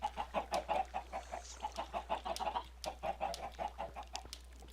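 Minecraft chickens clucking in a dense, rapid run of short clucks, close and continuous, with a low steady hum underneath and no talking.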